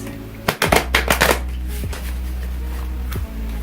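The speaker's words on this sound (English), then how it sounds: "when I picked up the deck to shuffle" A deck of tarot cards is shuffled up close in a short crisp riffle of several quick flutters, followed by a couple of faint taps over a steady low hum.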